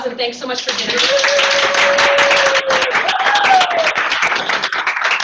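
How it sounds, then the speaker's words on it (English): An audience at a bookkeeping association meeting gives a round of applause for Max, with loud sustained clapping under a voice and a drawn-out whistle-like tone. "Can we really quick give Max a round of applause"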